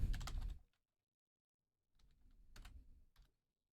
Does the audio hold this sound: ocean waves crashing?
no